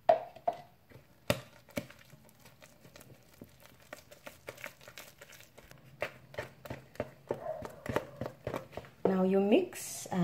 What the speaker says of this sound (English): Now you mix and keep on adding milk gradually until you get that desired consistency